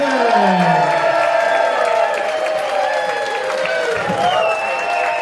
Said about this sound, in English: Clap and cheer, do what you do best, and please welcome Bob Stevenson!